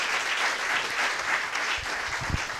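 A church congregation applauds together in sustained, dense clapping that stays loud and even throughout, with a few sharper claps toward the end.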